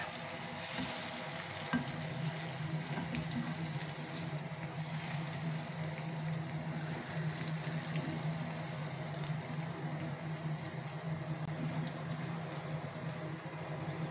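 Bananas fry in oil with brown sugar caramelizing around them for banana cue, a Filipino snack, giving a steady, close, crackling sizzle with occasional stirring scrapes throughout.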